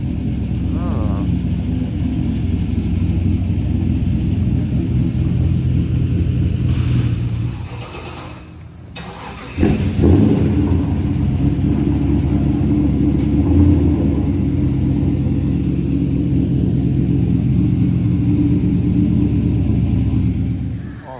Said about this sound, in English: S10 with the Cam V8, it sounds like.